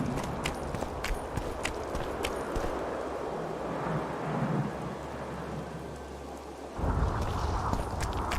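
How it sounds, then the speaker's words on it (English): Rain and thunder in The Witcher 2: Assassins of Kings, steady heavy rainfall with low rolling thunder rumbling underneath, light clopping hooves and scattered clicks, the downpour swelling louder near the end. "Who the hell commanded the heavens to rain?"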